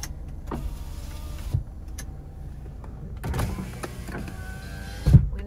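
Power windows on a Chevrolet Cobalt Sport whir up and down in a car interior, motor hum rising and settling over several seconds and ending in a firm thunk as a window seats, no voices.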